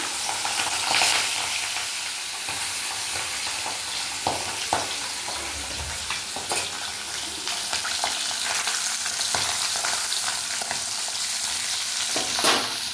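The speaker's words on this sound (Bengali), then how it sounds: "মাছটা ভাজতে দিলাম।" Pabda fish sizzles and crackles steadily in hot oil in a wok, close up, with occasional sharp pops and light stirring clicks.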